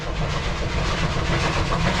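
A train rumbling past, steady and loud, with a dense continuous roar and faint rhythmic clatter throughout.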